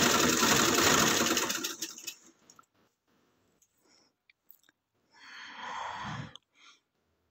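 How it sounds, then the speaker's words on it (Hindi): A sewing machine with a presser foot stitches in a steady, loud run for about two seconds, then goes quiet with faint clicks before a second short stitching burst near the end. "आप उस साइड पे इजीली सिलाई लगा सकते हैं"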